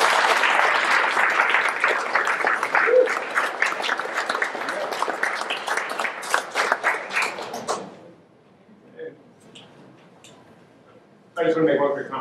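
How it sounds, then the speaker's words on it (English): A theater audience gives a big round of applause for student writing-contest participants, sustained clapping that fades out after about eight seconds, leaving near silence before a speaker resumes. "a really big round of applause for the students"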